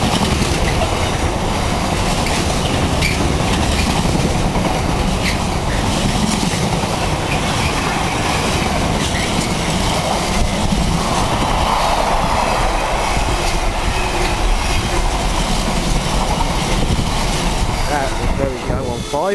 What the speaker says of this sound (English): Past 90, hauling an eastbound Freightliner, out to blast his way through Manningtree.